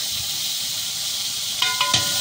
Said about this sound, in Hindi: और अब इसकी बुनाई हो रही है आप आवाज़ सुन सकते हैं